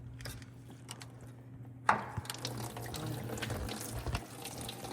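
Engine coolant from a Scania race engine being stripped down gushes out in a sudden splashing burst, then keeps pouring and trickling steadily close by, with no talk.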